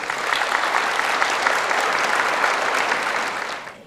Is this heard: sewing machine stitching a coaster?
no